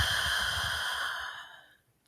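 A breath blown out to make a soft wind sound, a steady airy hiss lasting over a second before fading away into near silence, close and alone.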